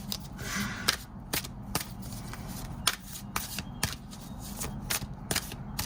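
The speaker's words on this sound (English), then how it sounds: "We're gonna do more shuffling." Tarot cards being shuffled by hand in a repeated series of crisp riffles and slaps, close and fairly quiet, each burst of card noise followed by brief softer handling.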